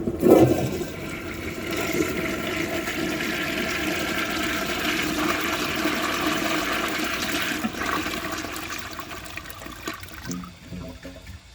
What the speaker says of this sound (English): that was a pretty awesome flush